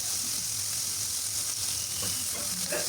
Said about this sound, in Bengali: এগুলো একটু ভালোভাবে ভেজে, মোটামুটি ভেজে আর কি